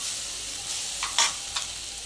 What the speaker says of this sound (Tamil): முந்திரி லைட்டாக ஃப்ரை ஆகிடும், சீக்கிரமாக ஃப்ரை ஆகிடும்